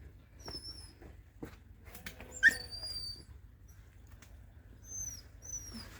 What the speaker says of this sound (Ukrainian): Тут у нас собака